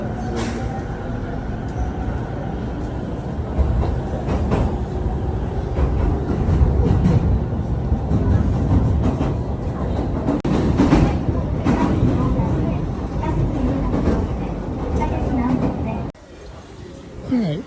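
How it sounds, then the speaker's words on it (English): A JR East local train bound for Nakano in Tokyo rumbles steadily with rhythmic clatter and voices in the background, the noise dropping off sharply near the end. "The next departure from track number 1 will be the 2:43 p.m. local train bound for Nakano."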